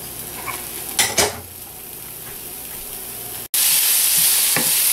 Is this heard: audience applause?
no